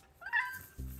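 A Shiba Inu dog gives a short, high, whiny cry as it tries to meow on command, followed by a brief lower grumble.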